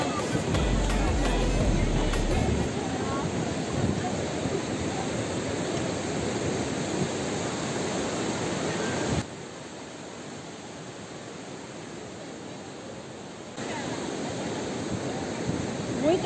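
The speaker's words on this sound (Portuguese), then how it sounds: "Gente, as ondas." Ocean waves at Geribá beach in Búzios, Rio de Janeiro, make a steady broadband surf roar that fills the whole clip. The loudness steps down partway through and rises again near the end.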